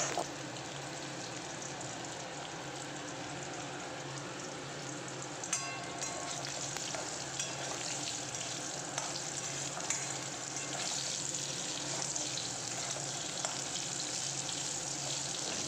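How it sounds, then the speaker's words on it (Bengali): Pangas fish pieces and potatoes frying in oil in a wok, a continuous soft, hissing sizzle throughout with a few faint clicks of the utensil, fairly quiet, no talk. "ওই কড়ার তেলেতেই আমি পাঙাশ মাছ আলুগুলো দিয়ে এখন ভেজে নিচ্ছি।"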